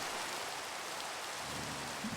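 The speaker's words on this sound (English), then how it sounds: "Thank God the rain stopped." Rain in the Minecraft modpack SevTech Ages, heard as a steady, even hiss of falling rain that holds at one level for the whole short stretch, alone with no voices.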